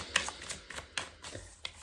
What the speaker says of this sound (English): I'm just over here shuffling like crazy.